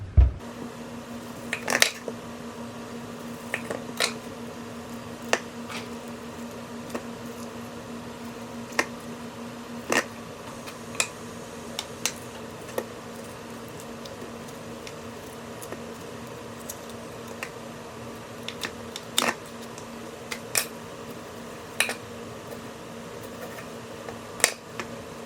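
A knife chops through fresh mangoes on a board in sharp, scattered taps and clicks, some louder than others, with a low steady hum underneath and no talking.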